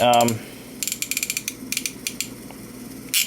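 A vintage Sankyo Seiki mechanical digital clock mechanism being reset, close-up bursts of rapid ratcheting clicks and gear ticks with short pauses between them.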